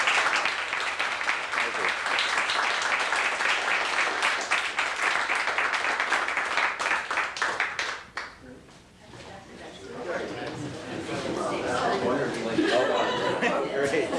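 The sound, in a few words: audience applause after a talk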